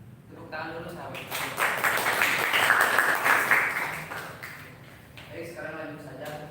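An audience at a student presidential candidate debate claps together in a loud burst of applause that swells and then fades, with a voice speaking over the start and end.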